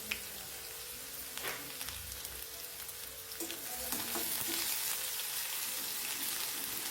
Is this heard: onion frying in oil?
yes